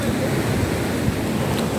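Ocean waves along the Tenerife coast, a loud steady wash of surf mixed with wind buffeting the microphone, continuous with no clear individual breaks.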